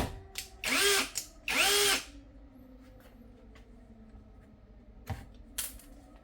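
Two bursts of a ProCraft PA18LiBL brushless cordless drill-driver driving a screw, each whirring for about half a second, followed later by brief faint clicks and a short whir.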